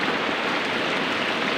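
Rain falls steadily around a house as a soft, even hiss of drops landing on surfaces, moderately quiet and unbroken, with no voices.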